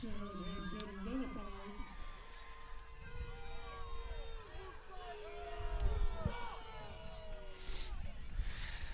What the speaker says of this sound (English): The crowd letting them hear it for that call